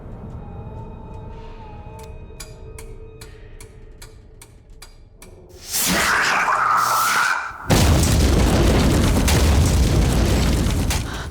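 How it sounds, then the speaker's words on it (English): An explosion boom shakes a house at night, a sudden loud burst after quiet ticking, followed by a sustained rumbling roar and a second heavy crash-like surge that stays loud. "All of a sudden, out of nowhere, there was the sound of an explosion."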